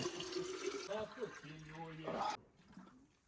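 Water runs from taps fed by a mountain spring in the Carpathians, a steady splashing rush under a voice, then cutting off abruptly and leaving quiet.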